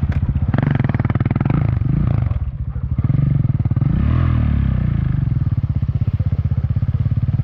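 A KTM Duke 690 engine on a quad bike towing a skier on a sled over thin snow, loud and close, a steady throbbing idle with a brief dip and a rising rev midway, then a sustained drone.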